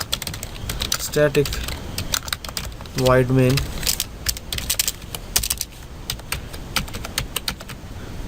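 Quick, close keystrokes of someone typing code on a computer keyboard, running steadily in bursts throughout while someone speaks over them.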